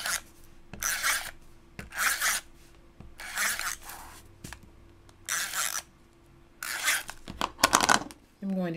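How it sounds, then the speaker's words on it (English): Tape is pulled and pressed onto the back of folded paper in a gift craft project. It comes as a series of short, close scratchy rips and rubs separated by quiet gaps. "I'm going to add some tape to the back."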